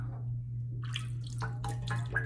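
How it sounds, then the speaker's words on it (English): Water drips onto a shaving brush held over a lather bowl with wool fat shaving soap, a few soft wet taps and trickles close by over a steady low hum. "put a little bit of water in my thing and drip it on top"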